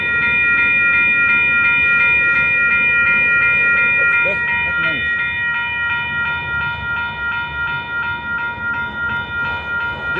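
A Union Pacific freight train passing in Arlington, Texas, loud and close, with a steady sustained horn-like tonal drone over rumbling cars and a rhythmic pulsing clatter toward the end.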